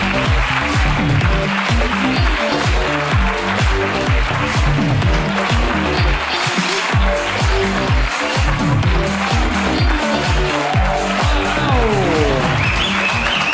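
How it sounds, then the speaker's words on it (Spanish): Live audience at a Spanish comedy podcast show clapping loudly and steadily for a guest walking on, a dense sustained wave of applause filling the whole stretch at close range. "¡Aplauso!"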